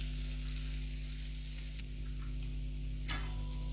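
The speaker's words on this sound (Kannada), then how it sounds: "ಇದನ್ನೆಲ್ಲ ಉಲ್ಟಾ ಮಾಡಿಬಿಟ್ಟು ಇನ್ನೊಂದು ಸೈಡ್ ಕಾಯಿಸ್ಕೊಂಬಿಡೋಣ. ಮಾಡ್ತಾ ಹೋಗಿ ಲೋ ಫ್ಲೇಮಲ್ಲೇ ಕಾಯಿಸ್ಬಿಡಿ" Paneer pieces frying in a pan over low flame for garlic paneer, a soft steady sizzle under a constant hum, with a brief scrape or clink near the end.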